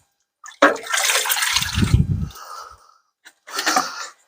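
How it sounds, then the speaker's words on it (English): Water sprays onto leafy green garden plants to give them a thorough soaking, a close hissing gush that runs for a couple of seconds, pauses, then starts again briefly. "So just give them good soaking in"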